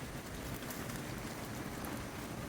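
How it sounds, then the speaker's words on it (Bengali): Steady rain falling, a dense even patter with no breaks, fairly soft and continuous throughout. "বৃষ্টি পড়ছে যদিও"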